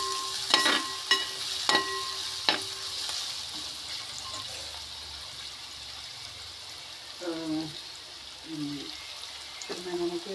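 Ginger and green chillies frying in a pan for a fish-head curry, with soft sizzling under a few sharp metallic clinks of a stirring spoon early on, then quieter sizzle and brief voices.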